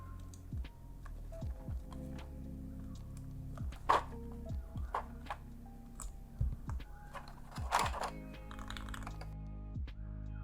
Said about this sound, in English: let's go ahead and start loading some keycaps up on this bad boy